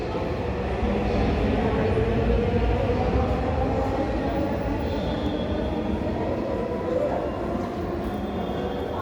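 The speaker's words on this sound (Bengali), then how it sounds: "মেট্রো রেলে চলে আসলাম" Steady low rumble and rolling hum inside a moving metro rail train, constant and fairly loud for the whole stretch with no voices.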